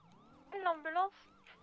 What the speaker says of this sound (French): L'ambulance?